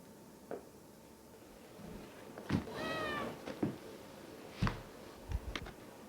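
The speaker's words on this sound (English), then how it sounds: "Bring in the cat." A cat gives one drawn-out, wavering meow among a few soft thumps and brief noises. It is quiet and somewhat distant, with no talking.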